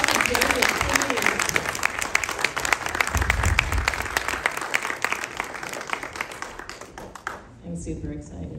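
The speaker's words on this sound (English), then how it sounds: "let's give a round of applause to David." An audience at a judicial campaign event applauds, a crowd clapping steadily for several seconds under speech, then tapering off into quieter talk near the end.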